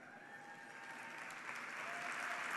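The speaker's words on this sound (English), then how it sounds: "join me in recognizing their success by giving them a warm round of applause" Applause from an audience at an awards gala honoring standing students, a soft, steady patter of clapping that gradually grows louder, with a faint voice in the background.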